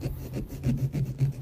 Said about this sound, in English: Start with taking the top off the pumpkin, and if you're using your little saw, you can see they're actually pretty quick.